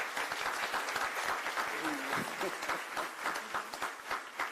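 A crowd at a community meeting applauds steadily throughout, a dense wash of clapping with a brief voice underneath.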